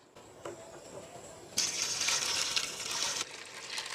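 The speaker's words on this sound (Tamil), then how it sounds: "இப்போ நம்ம வாட்டர் ஃபவுண்டனுக்கு தண்ணி ஃபில் பண்ணிக்கலாம்" Water pours and splashes steadily into a homemade fountain built from an old tyre, a broadband gushing rush that starts abruptly, runs for almost two seconds, then eases to a lighter trickle.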